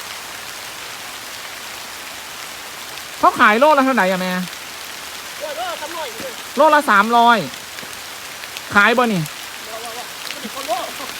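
Rain pours down in a forest where red ant eggs are being gathered, its constant hiss running beneath several short bursts of a woman's conversation.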